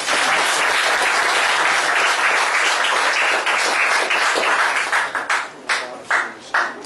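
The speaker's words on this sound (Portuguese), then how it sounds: "Uma salva de palmas para você." Audience applause at a psychology lecture at a book fair, sustained and dense for several seconds before thinning into scattered individual claps near the end.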